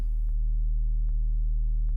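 A pure traditional sine-wave sub bass tone for dubstep, steady and loud throughout, with a short noisy burst at the start and faint clicks near one and two seconds; no voices.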